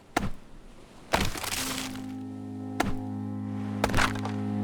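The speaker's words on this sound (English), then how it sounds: "I need a tree down so I can make a fire too." Axe chops striking a tree in the survival game Stranded Deep: four sharp, cracking thunks spaced about a second apart, close and loud, over a steady low ambient hum.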